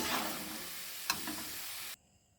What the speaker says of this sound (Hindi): इसे धीमी आंच पर ही करना पड़ता है ताकि सभी तरफ से अच्छे तरीके से यह फ्राई हो सके